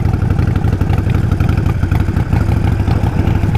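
Harley-Davidson Nightster 1200 motorcycle engine running close and very loud, a steady deep throbbing idle with rough clattering pulses and slight rises in revs throughout.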